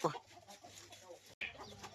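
Chickens behind a rural house, a few soft clucks and short calls, faint and at some distance amid quiet background.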